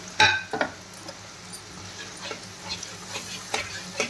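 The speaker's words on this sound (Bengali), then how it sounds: "সেই বাকি মশলাটা আমি এখানে ঢেলে দিলাম। ঢেলে দিয়ে এবার আমি কষতে থাকবো।" Leftover spice masala for chicken chaap being stir-fried in a pan, heard as a soft, low sizzle broken by a few sharp spatula scrapes and clinks near the start and end, with no voices.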